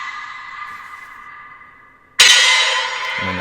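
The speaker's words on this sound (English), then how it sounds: "so if I send a text, it'll sound like this" A custom Dead by Daylight themed iPhone text-message send sound: a sustained eerie tone fading over about two seconds, then a sudden bright, harsh metallic burst that rings and slowly decays.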